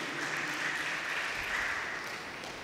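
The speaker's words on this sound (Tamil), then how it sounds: "கைத்தட்டி ஆண்டவருக்கு நன்றி சொல்ல மாட்டீங்களா?" A church congregation clapping in thanks to God, a steady, moderately faint wash of applause lasting a few seconds without pause.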